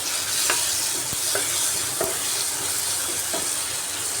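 Tomato masala cooking down in a pan, a steady close sizzle with a few scrapes and stirring clicks scattered over about four seconds, no voices.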